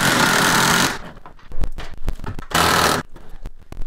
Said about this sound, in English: Let's get these nuts off.